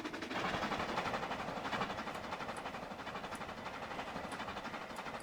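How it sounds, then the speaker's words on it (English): A Royal Mail train in the Trainz Railroad Simulator 2019 game rolls along the Cornish mainline with a steady rumble and rhythmic wheel clatter, moderately loud throughout and without any talk. "That's a Royal Mail train."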